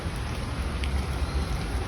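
Heavy rain pours steadily at a teak museum in Nilambur, a dense, even hiss of drops hitting surfaces with a low rumbling undertone throughout.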